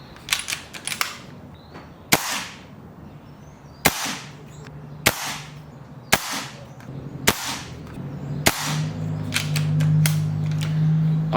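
A BRK Ghost air rifle tuned to maximum power fires about seven loud, sharp, close cracks at intervals of one to two seconds, each with a brief ringing tail, after a few lighter mechanical clicks.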